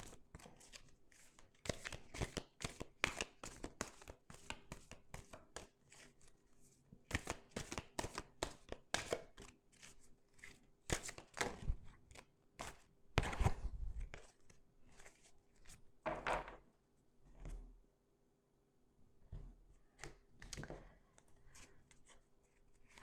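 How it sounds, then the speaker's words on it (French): Tarot cards being laid out and shuffled on a table, a close, quiet series of crisp card slaps and sliding rustles in irregular bursts, with someone speaking softly at times. "Je vais poser le tarot, compléter avec le tarot."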